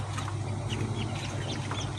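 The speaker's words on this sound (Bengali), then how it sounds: "এই যে আমার মুরগির বাচ্চা ফুটছে।" Chickens on a poultry farm, desi hens and Sonali breed, with chicks hatching nearby, giving faint, scattered clucks and peeps over a steady low hum throughout.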